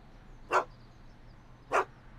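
Two short, separate barks from Einstein, Doc Brown's dog, in the Back to the Future video game, each a clear sharp bark over a low steady background hum.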